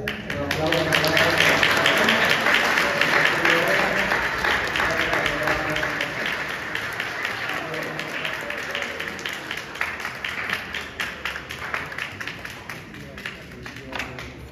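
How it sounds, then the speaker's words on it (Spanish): Applause from a congregation at a religious admission ceremony for a lay order, a dense, steady wash of many hands clapping that starts loud and gradually thins, with some voices murmuring underneath. "Un aplauso."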